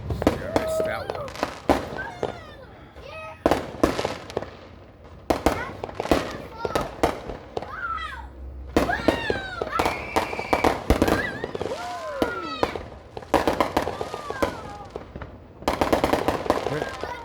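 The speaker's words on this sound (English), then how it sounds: "Man, these guys got some fireworks" Fourth of July eve fireworks explode in dense, irregular volleys of sharp bangs and crackling bursts at middle distance, going on throughout while people nearby talk and exclaim.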